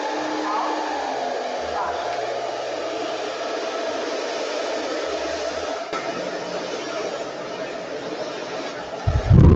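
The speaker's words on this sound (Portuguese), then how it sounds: "Vou trabalhar com secador em temperatura quente" A hair dryer runs on the hot setting at low speed during a blow-dry brushing session, producing a steady, close, continuous whoosh throughout with faint background voices underneath.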